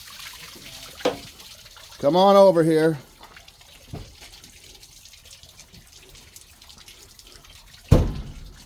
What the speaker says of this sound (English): Water's getting on the alternator